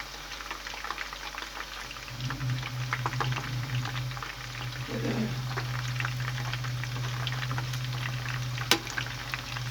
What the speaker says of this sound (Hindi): इसी तरह हम सारे कोफ्तों को ये देखें हिलाएंगे, चम्मच से हिला लेंगे ताकि ये टूटे ना